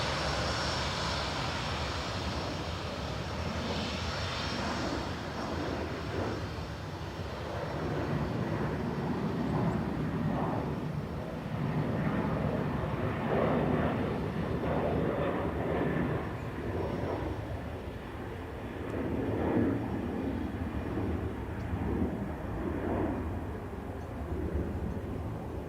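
An Aer Lingus airliner from Geneva comes in to land at Dublin Airport, a steady, moderately loud engine roar that swells slightly and holds through the whole stretch with no talk over it.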